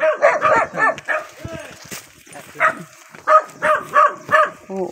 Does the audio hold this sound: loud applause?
no